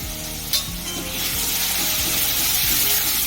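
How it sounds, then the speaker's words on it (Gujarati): Turmeric and spices sautéing in a pan in a home kitchen make a steady, close sizzle and crackle that builds slightly in loudness, with light stirring scrapes and no talk. "અને 2 મિનિટ માટે થોડું સતળવા દઈશું."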